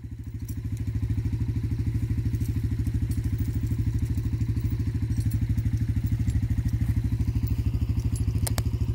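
A four-wheeler ATV engine runs at a steady, rapid thumping idle, loud and close, with a faint rattle on top and no talk.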